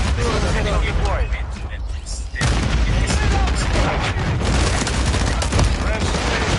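Missile strike explosions in Call of Duty: Modern Warfare III, a video game, heard as heavy booms and rumbling blasts amid continuous gunfire, with a voice talking over the battle noise.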